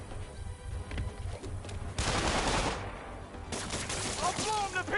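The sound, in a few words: gunfire in Marvel's Spider-Man video game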